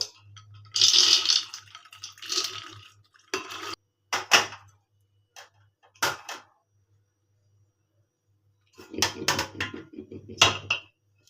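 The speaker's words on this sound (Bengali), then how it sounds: "এখানে প্রেশার কুকারের মধ্যে ছোলার ডালটাকে ঢেলে দিচ্ছি" Dry chana dal pours and rattles into a metal pressure cooker in a home kitchen, coming in several clattering bursts separated by quiet gaps, close and fairly loud with no talking.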